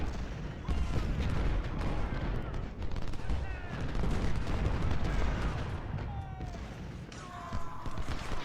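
Musket volleys and artillery fire from a Civil War battle in the Ultimate General: Civil War game, with dense, continuous crackling gunfire and booms filling the whole stretch at steady loudness.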